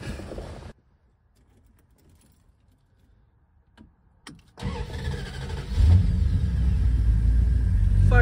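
A 1969 Plymouth police car, fitted with a dual exhaust kit and recently damaged by a fallen-out alternator, cranks briefly and fires up into a loud, steady idle rumble up close after a quiet pause and a few clicks.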